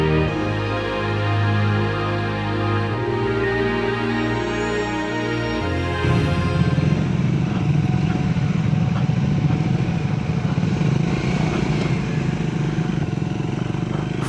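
A Triumph motorcycle on an off-road adventure ride near Karjat, its engine droning steadily close by, first with a smooth tonal hum and then a rougher, louder rumble as the bike pulls away over rough ground.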